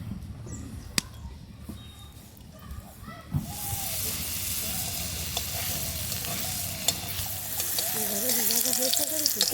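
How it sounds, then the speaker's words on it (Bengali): Banana-flower patties frying in hot oil in a wok, a soft crackle swelling into a loud steady sizzle partway through, with a few scrapes and faint voice beneath. "এখন এর মধ্যে কিছুটা তেল দিয়ে ধীরে ধীরে একটা একটা করে ভেজে নেব।"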